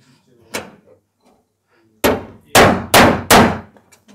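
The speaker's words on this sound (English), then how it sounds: "You'd be better off with your puller. With that slide hammer." Metallic bangs from a slide hammer pulling a dent on a classic Lancia Sports Coupe: one knock, then four loud sharp impacts in fairly quick succession, close up, with no talk over them.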